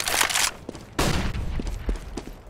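A flashbang grenade goes off in the CS:GO video game as a loud, broad burst, followed moments later by a second heavy blast that trails into rumbling noise.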